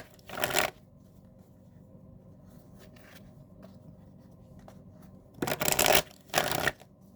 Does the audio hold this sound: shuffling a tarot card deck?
yes